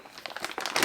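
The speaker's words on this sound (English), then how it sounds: "I have them in this plastic bag." A plastic bag holding yarn crinkles and rustles up close for under a second, the crackles growing louder toward the end with no talking.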